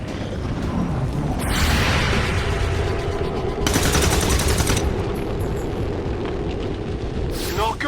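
Weapon gunfire in a video game: dense sustained bursts of firing and rumbling booms, loud and continuous, swelling in intensity around the middle.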